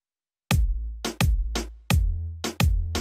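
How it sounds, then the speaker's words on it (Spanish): A simple reggaeton bass progression in FL Studio: deep sustained bass notes shifting pitch under a steady kick and snare pattern, loud and close, with no voices. "para que chequen la progresión del bass"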